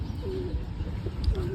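Pigeons coo softly near an outdoor roost during cloudy monsoon weather, low rolling calls repeating a few times over steady background noise, with no talking.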